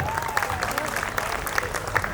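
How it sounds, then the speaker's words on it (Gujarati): An audience at a sangeet night claps for a performer, giving a steady patter of applause at middling distance with crowd murmur and a voice beneath it. "ભાઈ એકવાર જોરદાર તાળીઓ કપી રચિત માટે."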